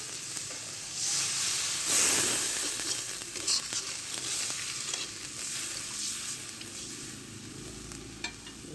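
Water poured onto frying masala in a pan for a prawn fritter curry bursts into a sharp hiss, then settles into a quieter, steady sizzle.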